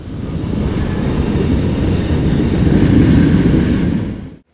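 A freight train with varied cars passes steadily in Memphis, Tennessee, hauled by an ex-BNSF SD40T locomotive, a loud continuous roar and rumble of rolling wheels that cuts off abruptly.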